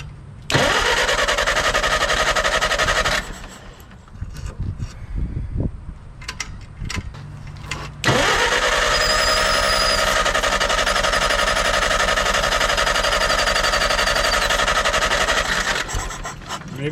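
A 1964 Clark Clipper forklift engine cranks over at length, steady loud starter churning that pauses briefly, then resumes in a long second bout without firing up.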